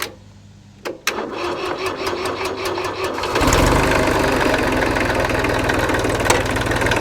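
A Kubota L2201 tractor's diesel engine cranks with a rapid chugging starter rhythm for a couple of seconds, then catches and settles into a loud, steady idle close by.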